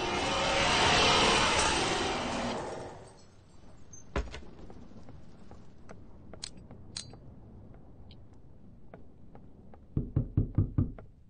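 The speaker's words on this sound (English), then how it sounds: "I do not like that knocking on the door" In a horror video game, a rushing noise fades out, then a loud knock hits a door, followed by scattered light taps and finally a quick burst of five hard knocks near the end.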